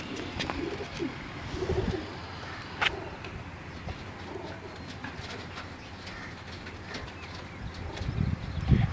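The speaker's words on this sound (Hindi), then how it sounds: "ये असद भाई के प्रवासी कबूतर हैं जो कि इन्होंने सीज़न में उड़ाए हैं" Asad Bhai's flying pigeons cooing and fluttering, soft repeated coos with occasional wing flaps and faint chirps over a continuous outdoor background, with no talking.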